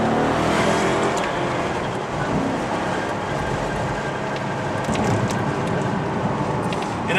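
A Maserati driven on the road during a test drive, a continuous loud engine and tyre roar with steady wind noise from inside the cabin, holding an even level throughout with no talk.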